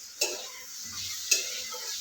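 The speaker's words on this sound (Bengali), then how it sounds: "পেঁয়াজ আমাকে ভাজা হবে।" Onions frying in a pan and being stirred, with a soft continuous sizzle and two brief scraping stirs, fairly faint and with no talk.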